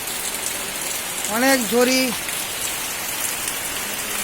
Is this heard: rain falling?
yes